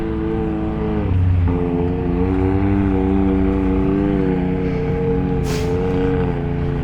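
ATVs and other vehicles on a red sand beach at Sand Hollow State Park, Utah, a loud sustained engine drone with shifting pitch as machines rumble past nearby, no speech.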